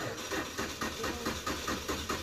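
A car engine cranks on its starter during a no-start diagnosis with no spark reaching the plug, giving a steady run of rhythmic, evenly spaced mechanical pulses at moderate level, without catching.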